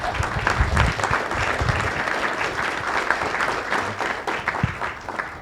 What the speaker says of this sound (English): let's give her a round of applause, you all, please